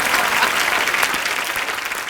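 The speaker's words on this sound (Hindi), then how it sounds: "इन फिरंगी लड़कियों के लिए जोरदार तालियां।" A comedy show's studio audience breaks into sustained, loud applause, a dense even wash of clapping that fades slightly toward the end.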